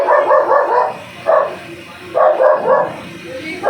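A dog barks in bursts, three or four clusters of sharp close barks separated by short pauses.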